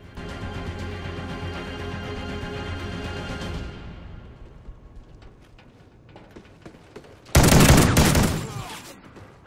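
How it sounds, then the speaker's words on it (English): Rapid bursts of shotgun fire from Call of Duty Ghosts, loud and close, a dense run of shots followed by quieter game noise and then one sharp, heavy blast near the end. "One problem with the shotgun, even if you have slugs, there's a lot of kick"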